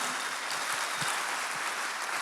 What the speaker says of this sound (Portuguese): Você dá uma salva de palmas do Senhor?